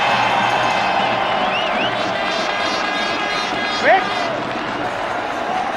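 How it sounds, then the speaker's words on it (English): A cricket crowd at a Pakistan versus India match in Sharjah, 1999, a broad sustained roar and cheering across the ground, loud and continuous, with a brief sharper shout rising near the end. "Not quite off the middle of the bat. But it's enough to get the crowd roaring."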